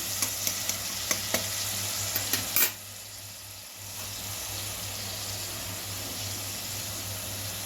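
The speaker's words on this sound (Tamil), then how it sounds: "ஃபர்ஸ்ட் இதை எண்ணெயில் கொஞ்ச நேரம் நல்லா வதக்கணும்" A ground paste sautés in oil for Tamil-style chicken curry, a soft steady sizzle with light stirring clicks at first, then an even frying hiss continuing alone.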